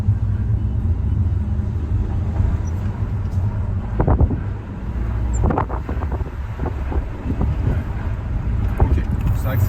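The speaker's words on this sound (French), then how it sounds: "je vais accélérer un peu, on va écouter le moteur" A Peugeot 5008 GT Line with a 1.2-litre 130 hp petrol engine accelerates on a straight road, its muted engine drone rising under steady wind and road noise heard from inside the car.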